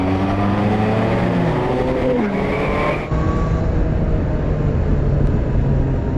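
A 2020 Kawasaki ZH2 motorcycle accelerates in fifth gear from low speed, its engine note rising steadily and loud throughout, with heavy wind rush and a brief dip in pitch partway through.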